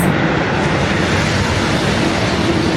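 A European high-speed train rushing past gives a loud, dense, continuous roar, close and unbroken like a passing jet, with no voices.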